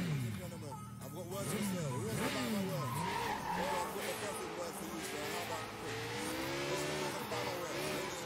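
Motorcycle tires skid and squeal in the Sleeping Dogs Definitive Edition video game, with engine revving and sliding that rise and fall for several seconds while someone talks over the gameplay.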